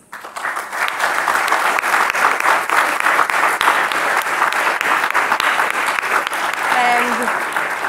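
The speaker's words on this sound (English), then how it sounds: "Let us all join in a round of applause to celebrate the success of" Sustained audience applause for awardees at an energy conference awards event, a loud, even roar of many clapping hands that swells quickly and holds steady, with a brief voice near the end.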